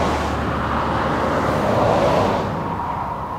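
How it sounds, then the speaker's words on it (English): Cars passing along a coastal road near Santa Cruz and Davenport Beach, a steady broadband roar that swells around the middle as a vehicle goes by, then eases off slightly; no voices. "then we're gonna wait for cars to pass"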